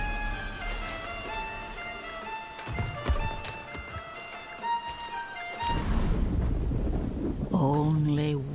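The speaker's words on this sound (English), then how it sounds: "So let's enjoy the storm a moment" A thunderstorm in Diablo IV: a low rumble and rolling crash of thunder with rain set under sustained musical tones, swelling louder toward the end.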